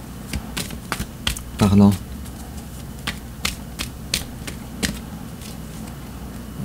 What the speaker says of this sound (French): je vais tirer encore une autre carte